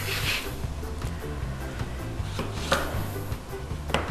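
Rapid knife chops through zucchini on a cutting board, a steady run of sharp taps close up, with a faint rumble of background music underneath.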